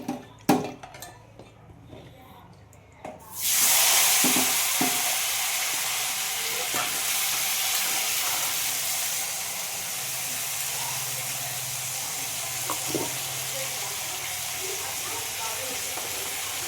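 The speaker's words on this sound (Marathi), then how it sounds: "बघू शकता इथं आपण भाजीला फोडणी देतोय" Mixed vegetables sizzle loudly in hot oil during tempering for a Sankranti thali, a sudden burst of steady frying hiss that continues under occasional stirring clinks after a few seconds of quieter kitchen noise.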